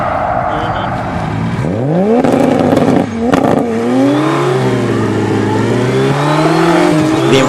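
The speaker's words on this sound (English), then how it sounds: "this black Supra has enough power to break the wheels loose at about 40 miles an hour, both wheels" A black Toyota Supra does a burnout at about 40 mph, its engine roaring loud and close as revs climb and fall, and tire noise and crackle run underneath.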